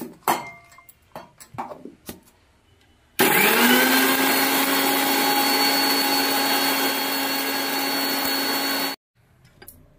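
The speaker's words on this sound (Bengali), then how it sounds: "জিরেটা মিক্সিতে বাটিতে দিয়ে দিলাম। অল্প সামান্য জল দিয়ে ভালো করে পেস্ট করে নেব।" Mixer grinder whirring loudly and steadily for about six seconds as it grinds cumin and green chillies with a little water into a paste, preceded by a few soft clicks and knocks and ending abruptly.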